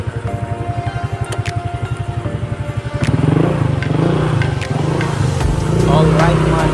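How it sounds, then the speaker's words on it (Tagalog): A motorcycle engine idles with a steady low putter, then revs up and pulls away in Tagaytay, Philippines, running loud and close throughout. "sakay na tayo sa ating motor"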